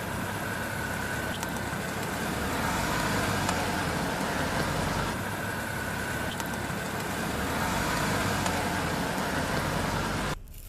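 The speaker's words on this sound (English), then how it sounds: "I'm going to get in the car and drive over it." A car engine runs close by with a steady, even rumble as the vehicle rolls over an Apple Watch laid on the ground; no distinct crunch or impact stands out.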